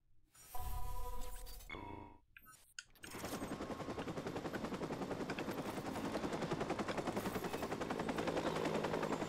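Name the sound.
helicopter and gunfire in the video game Watch Dogs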